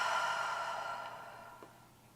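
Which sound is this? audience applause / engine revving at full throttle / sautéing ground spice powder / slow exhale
slow exhale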